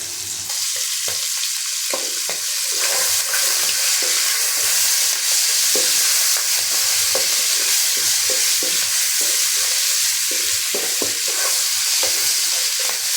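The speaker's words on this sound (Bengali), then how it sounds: "প্রায় ভাজি হয়ে আসছে" Shrimp frying with vegetables in a pan, a loud, continuous close-up sizzle with frequent stirring scrapes throughout, steady and unbroken.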